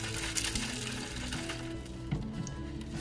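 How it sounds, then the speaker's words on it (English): Solid sodium hydroxide rattling inside a partially filled bottle being shaken, with quiet scattered clinks and small hard taps through a few seconds, faint and without talk. "We want to do that so we can no longer hear that sodium hydroxide rattling around."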